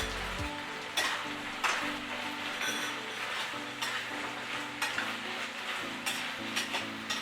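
A spoon stirs chilli paneer sauce in a pan, scraping and clinking in steady repeated strokes over a soft sizzle, close up with no voices.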